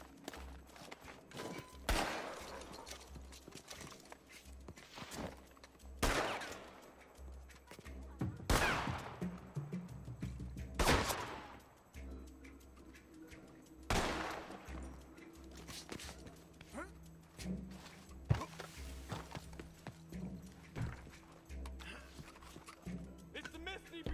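Gunfire from Raiders in the Red Dead Redemption 2 video game: loud single shots ring out every few seconds among hoofbeats and shouted voices.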